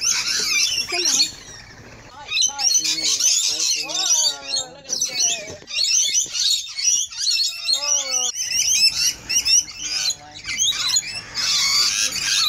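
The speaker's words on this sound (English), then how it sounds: "Hello, birds." Small birds chirping loudly and close outdoors near a ditch, rapid bursts of sharp tweets and warbling calls with brief squawks and short pauses.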